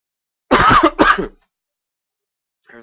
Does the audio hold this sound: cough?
yes